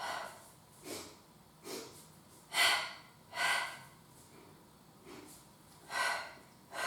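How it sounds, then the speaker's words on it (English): Breaths are drawn in and pushed out in short paired pulses during a live pilates class, a steady series of soft, fairly close inhales and exhales with no talk over them. "We're going to do a double pulse. So we're going to go inhale, inhale, exhale, exhale."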